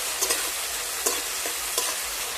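Chopped tomato with salt frying in hot oil, a steady soft sizzle with a few brief stirring scrapes of the spatula spaced through it, close and alone without any voices.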